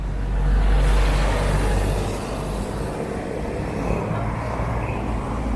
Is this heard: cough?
no